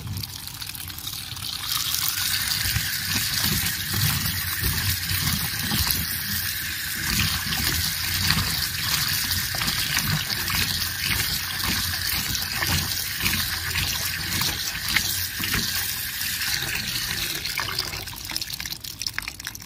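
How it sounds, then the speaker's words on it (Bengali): Okra (ladies finger) being washed in water in a village kitchen, a steady, close rush of running water with splashing and dripping that continues throughout. "তাই ঢেঁড়সগুলোকে আমি ভালো করে ধুয়ে নিচ্ছি।"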